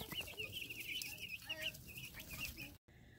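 Two-week-old meat chicks clucking and peeping in a dense, continuous chorus close by, with a brief cutout near the end.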